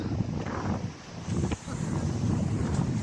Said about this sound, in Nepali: खतरनाकै हावा चलेको छ